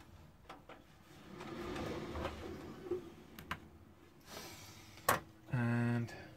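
An old business desktop PC powering on: scattered clicks and switch taps, a soft whir rising, then a sharp click and a short run of steady electronic beeps near the end.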